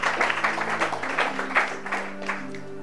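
A church congregation applauding during a sermon, a soft patter of scattered hand claps over a sustained musical backdrop, moderately distant and continuous.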